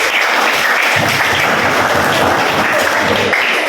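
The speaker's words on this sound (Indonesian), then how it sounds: "Berikan tepuk tangan ke kalian." A classroom of students claps together at a teacher's prompt, a dense, steady wash of applause that holds loud and even throughout with no talking over it.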